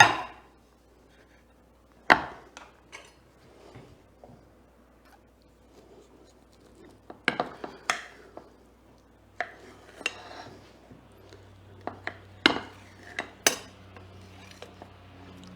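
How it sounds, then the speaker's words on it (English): A knife cutting a slice of mango cheesecake and setting it onto a plate, heard as quiet, scattered close taps and scrapes of metal on a plate with pauses between them. No one speaks. "What I'm going to do is I'm going to do a slice for you."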